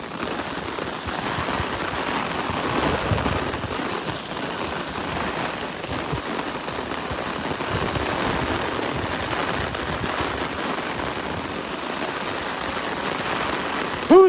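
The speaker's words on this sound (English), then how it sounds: "Listen to that rain." Heavy tropical-storm rain from Tropical Storm Elsa pours down on Vanderbilt Beach in Naples, Florida, a dense, steady hiss that stays loud and unbroken throughout, with no voices.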